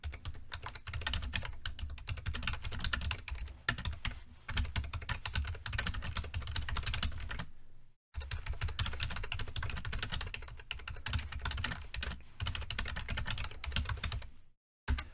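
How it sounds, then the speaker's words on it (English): Steady, rapid clatter of keys on a computer keyboard, close and fairly quiet, running continuously with two brief pauses, no voices present. "So I'm going to type that in real quick."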